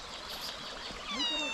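A cat at an outdoor barbecue and picnic area near Karacabey Boğaz gives a single short, faint meow near the end, set against a soft trickling, water-like background.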